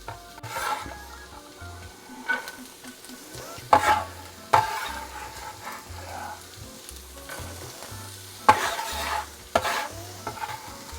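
Shrimp and other ingredients sizzle and crackle in hot oil, with stirring scrapes and a few sharp clatters of a utensil against the pan.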